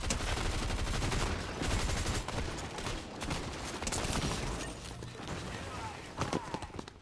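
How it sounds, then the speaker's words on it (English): Rapid gunfire from a Fortnite match crackles in dense bursts throughout, loud and continuous, with a few sharper shots near the end and a voice talking over it. "They were shooting at me."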